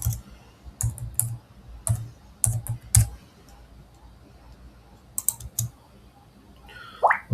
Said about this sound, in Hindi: यहाँ पे कैड ज्ञान लिख देंगे